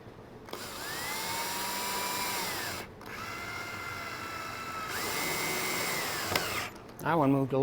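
A power driver turns a screw into pre-drilled birch wood while a small table is assembled, giving two long whirring runs with a short pause between them, close and moderately loud, followed by a short clatter at the end.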